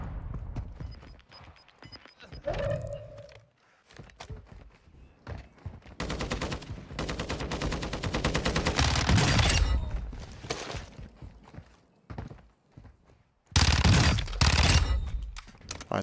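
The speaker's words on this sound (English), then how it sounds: "there was shooting in the other direction that I gotta be careful of" Gunfire in Warzone 2, with rapid automatic bursts from an M13 rifle and other weapons coming in several loud close volleys separated by quieter gaps, including a long sustained burst in the middle and another near the end.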